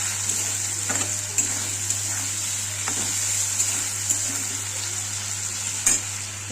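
Salt and turmeric being stirred into food in a pan for egg chicken chow mein, with a steady broadband sizzle throughout and a few scraping strokes of the spoon against the pan, close and fairly loud, no talking.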